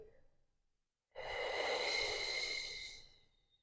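Slow, steady exhale during a beginner Pilates breathing exercise, a broad breathy rush lasting about two seconds after a brief quiet pause, close and fairly soft, fading gently at the end.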